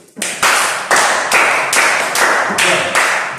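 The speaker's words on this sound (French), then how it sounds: "Applaudissez pour vous." An audience claps together in a steady rhythm, about seven sharp, loud claps in unison with short gaps between them.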